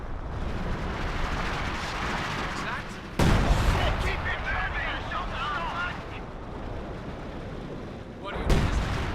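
A World War II headquarters comes under gunfire and artillery shelling in Company of Heroes, with a steady rumble of battle, two sharp loud impacts, and voices talking over the fighting.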